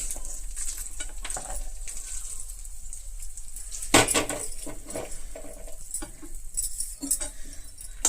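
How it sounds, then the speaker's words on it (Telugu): Hot oil tempering poured over semolina and stirred in, giving a steady close sizzle and scraping stir with a sharp burst partway through, no talk. "ఈ రవ్వలో ఇది పోపు అంతా వేసేస్తున్నాను ఆయిల్తో సహా వేసేసి"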